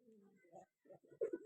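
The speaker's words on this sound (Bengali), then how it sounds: "ওর পায়ের উপরে বসে কিরকম ডাকছে" A pet pigeon perched on someone's leg indoors gives soft, low cooing calls, close and quiet, in a few short bursts with brief pauses between them.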